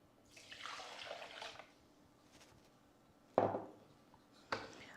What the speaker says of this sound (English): I put in 250 ml of water, which I'm going to add to my blender